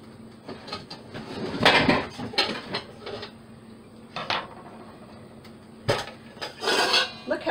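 Bowls and pots are handled and set down, giving close ceramic and metal clinks and clatters in scattered bursts with quieter gaps between.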